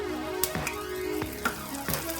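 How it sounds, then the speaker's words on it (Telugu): Lentils frying in oil in a kadai give a steady, close sizzle, broken every half second or so by sharp scrapes of stirring. "మనకి పప్పులన్నీ మంచి కలర్లోకి ఫ్రై అయిపోవాలి"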